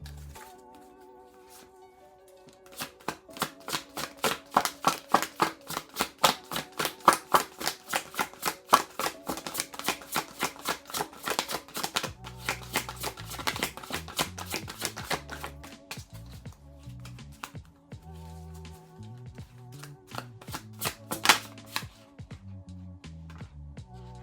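A deck of Archangel oracle cards is shuffled close up, giving rapid, crisp riffling flutters that come in repeated bursts, with soft pauses between them and a faint steady tone underneath.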